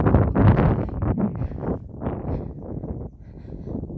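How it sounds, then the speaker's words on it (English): Gusty wind buffets close to the microphone outdoors at night, a low rumbling roar that surges and dips over a few seconds, with no one talking. "I don't know if you can hear because it's a bit windy"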